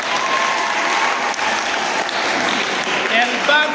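A crowd at a Sunday school children's drama and culture competition claps in a dense, loud, continuous roar of applause, with some voices mixed in underneath.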